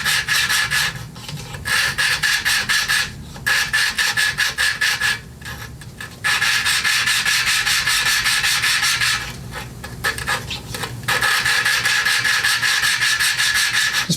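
Valve seat being lapped by hand on a Briggs lawnmower engine, a steady gritty rubbing scrape in repeated back-and-forth strokes with short pauses, close and fairly loud, no talking.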